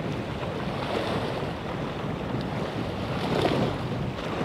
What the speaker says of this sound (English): That must be the wind.